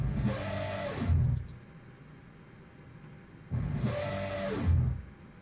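A synthesized dragon roar shaped by filter automation sounds twice as two long, growling swells with tonal harmonics. Each swell rises, sweeps and fades into quiet between them, with no voices.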